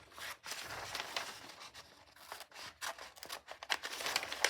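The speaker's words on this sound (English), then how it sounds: "so that I'm always cutting in front of me, keeping the scissors in the same place." Scissors snip through paper as a cube net for a money box is cut out, a quiet run of irregular crisp cuts and rustles with the sheet being turned, and no talking.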